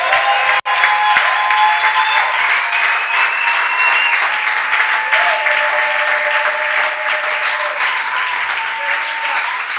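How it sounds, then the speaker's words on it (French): A church congregation applauds together during a service, steady full clapping throughout, loud and close, with a sharp knock near the start. "Donne-moi une offrande d'acclamation pour le Seigneur."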